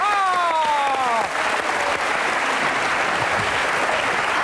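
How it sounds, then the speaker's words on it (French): Studio audience applause on a French television show, loud and dense, steady throughout after a brief drawn-out harmonic tone fades in the opening second. "On applaudit Sidonie, mesdames et messieurs."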